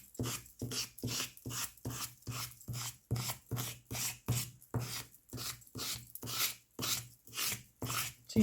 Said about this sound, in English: you're kind of scraping it on and scraping it up again